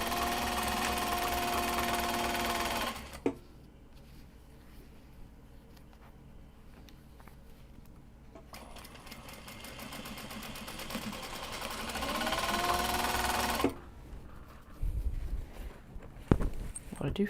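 A sewing machine stitches a bag, its rapid mechanical whirring running in bursts of a few seconds broken by pauses, with talk and handling noises between the runs.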